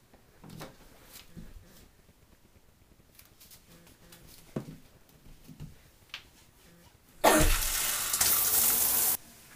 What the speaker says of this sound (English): I'm getting in the shower.